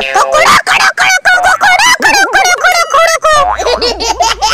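A cartoon character's voice imitates a rooster crowing, with a loud, warbling, sing-song cry broken into several bursts.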